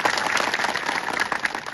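An audience at a political gathering applauds the village heads, a dense rolling patter of many hands clapping at a moderate distance that holds steady without talk over it.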